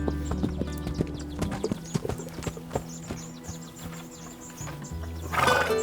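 Hooves of a burro being ridden clop in a steady, close rhythm, with a brief animal call near the end and no talk.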